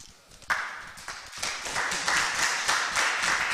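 An audience at a gender statistics workshop in Pretoria claps to welcome a speaker: a dense, steady patter of many hands that starts abruptly and holds at moderate loudness, with no talk over it.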